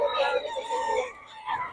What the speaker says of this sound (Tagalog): Gusto niya mga mamurahing manok dito kay Boss Ray.